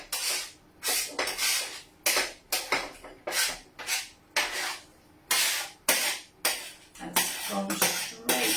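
Vegetables for a low carb chicken curry scraped off a board straight into a slow cooker, a run of short, close scraping and clattering strokes about once a second, with no talk.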